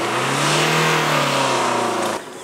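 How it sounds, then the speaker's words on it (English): A car engine revs hard and steadily for about two seconds at a road cycling championship venue, loud and near, then drops off abruptly as the revving is released. "He's trying to rev the engines."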